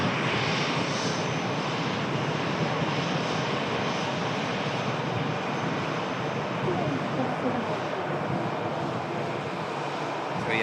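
Airliner departing on its return leg to Bahrain, a broad steady jet engine roar heard from a distance, continuous and unbroken throughout.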